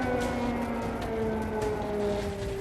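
A steady, droning air raid siren wails in the distance over a silent Ukrainian city in wartime, holding a continuous tone with no voices, over a low background rumble.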